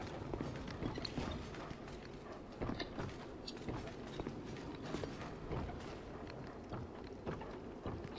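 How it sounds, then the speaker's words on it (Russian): Soft, irregular pattering steps like a dog's paws on a wet floor in Dark Souls II, a faint, continuous scuffling shuffle in a quiet, hollow space. "Слышу странные звуки, как будто вот здесь собака что-то ходит."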